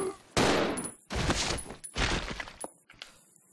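Several loud bursts of rapid gunfire in the video game Resident Evil 0, each a harsh crackling volley followed by brief pauses, with some faint beeping in between.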